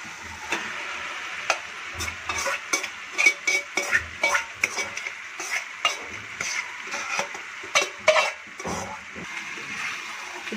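Chicken pieces go into fried tomato paste for a Rayalaseema chicken fry, with a constant sizzle broken by a rapid series of loud scraping, clattering stirs against the pan and no speech.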